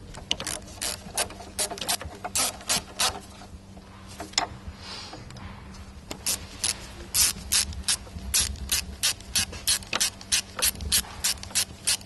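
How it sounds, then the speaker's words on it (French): A ratchet clicks as it tightens the glow plug nuts on a Peugeot 206 HDi engine, with bursts of fast, close ratcheting and a short pause midway. "il suffit de procéder au serrage des écrous"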